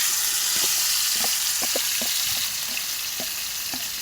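Potato skins frying in hot oil, a steady close sizzle and hiss with scattered small pops and crackles throughout.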